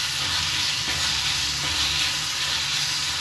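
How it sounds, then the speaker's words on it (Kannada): A ground egg and vegetable mixture fries in a pan, giving off a continuous, even sizzle and hiss at close range with no pauses and no voices. "ಈಗ ಇದನ್ನ ಸೆಂಟ್ರಲ್ಲೇ ಒಂದು 2 ನಿಮಿಷ ಈ ರೀತಿ ಫ್ರೈ ಮಾಡ್ಕೊಳ್ಳೋಣ"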